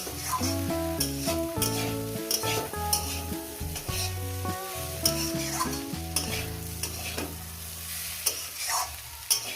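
Mourala fish with potatoes and drumstick flowers sizzling in a pan with oil, stirred repeatedly so a utensil scrapes and clatters in rhythmic bursts over the continuous frying hiss, with no voice.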